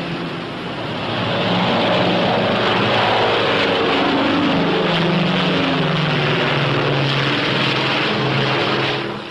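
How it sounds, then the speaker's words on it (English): A P-61A Black Widow fighter roars through its takeoff run, a steady broad propeller-engine drone that swells within the first two seconds and holds loud and constant throughout. "the P-61A takes off like a homesick angel"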